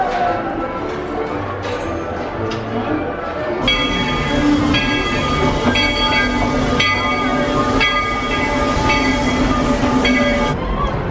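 Rumbling Walt Disney World Railroad train at the Main Street USA station in Magic Kingdom, with mechanical clatter and ringing tones. Faint voices murmur in the background, and the sound grows fuller midway.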